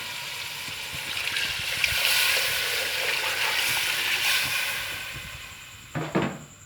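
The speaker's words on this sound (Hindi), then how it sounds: "अपने अपने चावलों के मुताबिक इसमें आप पानी ऐड कर लें।" Water pours steadily into a pot of rice for yakhni pulao with a hissing, sizzling rush, ending in a couple of clunks near the close.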